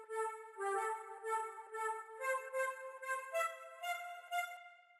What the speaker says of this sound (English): we have this little flute sample